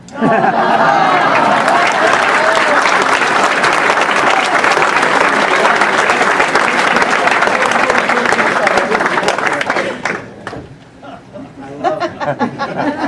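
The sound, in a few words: audience applause at reception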